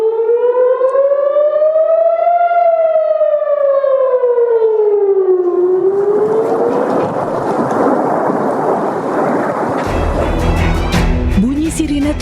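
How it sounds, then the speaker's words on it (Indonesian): An air raid siren wails loudly over Tel Aviv during an Iranian attack, rising and falling in a long sustained tone, then gives way to a roaring wash of noise and heavy low rumbling. "Bunyi sirine terdengar mencekam di atas kota Tel Aviv."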